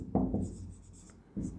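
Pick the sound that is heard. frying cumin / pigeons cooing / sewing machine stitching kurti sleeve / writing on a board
writing on a board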